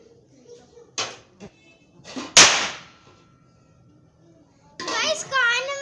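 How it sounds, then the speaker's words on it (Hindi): A firecracker goes off with one sharp, loud crack. Children chatter and other voices talk around it, before and after the burst. "ये रहा पटाखा चलने बजाते हैं"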